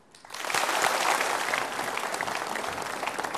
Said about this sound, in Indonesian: Untuk itu kita berikan aplaus untuk Mas Rahmadi atau Aang